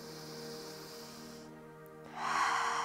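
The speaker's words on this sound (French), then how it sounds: "J'inspire et j'expire." Slow guided Wim Hof–style breathing, with a long steady breath that fades briefly and then a louder, airy exhale or inhale rushing in near the end, heard alone and close up.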